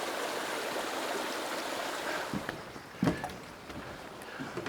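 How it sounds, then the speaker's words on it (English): A seasonal creek flows near a waterfall, giving a steady broad rush of running water close by, with a few soft splashes or footsteps near the end. "Right below me is this seasonal creek that I was telling you about."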